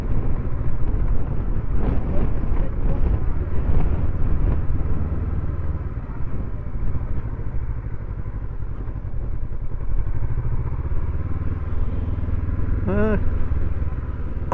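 Honda CB500X 2023 motorcycle riding at low speed around a car park, its engine a steady continuous rumble close by with faint wind, and someone talks over it throughout.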